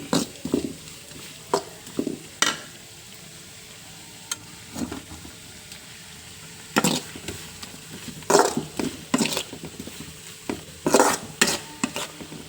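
Intermittent scraping and clinking of a spatula stirring potatoes in a frying pan, with a soft sizzle underneath; strokes come in irregular bursts, close by.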